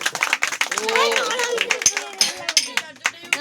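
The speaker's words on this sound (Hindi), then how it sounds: "ताली बजा दो, ताली बजा दो" Hand clapping at a picnic magic show in Sambalpur: a string of sharp, close claps punctuating lively voices that talk and call out over and between them.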